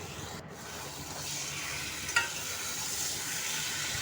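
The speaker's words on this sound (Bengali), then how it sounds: "এবার মশলাটা সম্পূর্ণ কষে গেছে এবার দেব আগে থেকে ভেজে রাখা আলু" Pre-fried potatoes are stirred into a fully cooked masala for Punjabi aloo dum, giving a steady close-up sizzle with one brief scrape of the spoon partway through. No one speaks.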